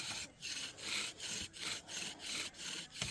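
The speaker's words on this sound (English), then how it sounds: "First couple saws, you're just kind of trying to warm up the set." A hand saw rubs rhythmically against wood in a friction fire set, about eight steady back-and-forth strokes of raspy scraping, fairly close and alone.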